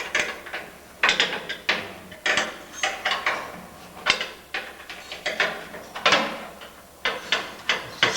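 A ratchet clicks in quick bursts while bolts are removed from a shipwreck exhibit under construction, with metallic clanks and handling noises between the close, sharp runs.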